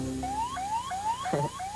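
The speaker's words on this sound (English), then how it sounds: "The beam then hits a receptor in the box and turns on the alarm." An infrared motion-detector alarm sounds off with a run of five rising electronic chirps in a steady repeating rhythm, loud and close, with no voices over it.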